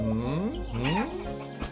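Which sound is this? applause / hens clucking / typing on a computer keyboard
hens clucking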